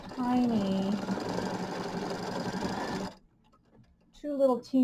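A sewing machine stitches pieces for a small mini quilt, a rapid, steady mechanical chatter for about three seconds under a talking voice, then it stops and the speech continues briefly.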